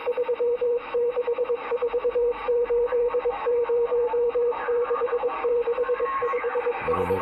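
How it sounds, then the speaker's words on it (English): Morse code picked up on CB radio channel 38: a rapid string of steady tone beeps in dots and dashes, loud and continuous over faint radio hiss, ending with a burst of static. "this is ham radio. The Morse code."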